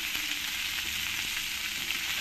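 Potatoes and kudri (ivy gourd) fry with salt and turmeric over a medium flame, giving a continuous close, dense sizzle with faint stirring and no talk.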